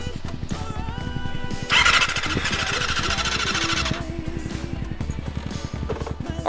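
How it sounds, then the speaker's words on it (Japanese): A motorcycle engine cranks and sputters repeatedly without catching, the starter whining and chugging in uneven bursts, with a brief louder squeal midway. "一回エンジン止まるとかかりづらい。"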